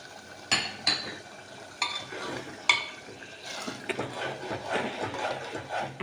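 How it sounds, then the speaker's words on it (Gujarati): Vegetables and tomatoes sautéing in a pan for a Kathiyawadi-style veg yakhni pulao, with a steady soft sizzle broken by several sharp spoon scrapes and clinks against the pan, close by. "આ બધાને પણ બહુ સારી રીતે અંદર સાતળવા દેવાના"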